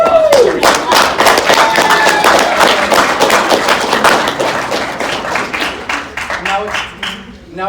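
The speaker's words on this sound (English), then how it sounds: "so give them a hand of applause" A convention panel audience applauds: several seconds of crisp, fairly loud clapping from a crowd in a room, thinning toward the end as a voice comes back in.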